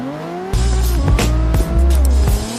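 A Subaru WRX drifts at a Navaro slidestyle practice, its engine revving hard and shifting pitch as the tires squeal through the slide, loud and close for under three seconds, no talking.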